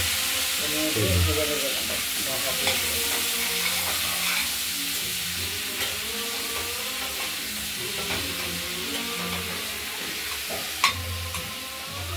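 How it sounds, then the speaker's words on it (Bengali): Flat beans frying with salt and turmeric in a pan make a continuous close sizzle and hiss, with soft stirring and a sharp utensil knock near the end. "এটা আমরা ভাজা ভাজা করে নেব।"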